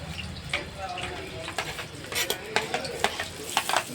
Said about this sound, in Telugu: ఉల్లిపాయలు దోరగా వేయించుకోవాలి.